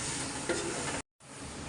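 Spices with turmeric being stirred into a frying pan, a steady loud sizzle with scraping stirs, briefly cut to silence before the frying resumes.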